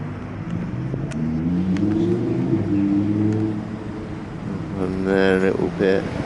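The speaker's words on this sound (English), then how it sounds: "It's very noisy, unfortunately, because there's a road in front of me." Road traffic rumbles steadily nearby with passing engine noise, while people talk over it and a car's engine revs up near the end.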